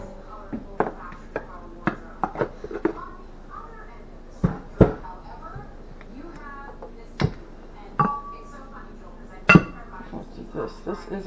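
Flour is measured with a half-cup measure for bread-machine cornbread, producing scattered close clinks and knocks of the cup against a bowl, with speech quietly in between.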